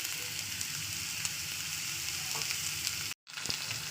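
Potato pieces hit hot oil in a frying pan and sizzle steadily and close up, with a brief cut in the sound near the end before the frying resumes.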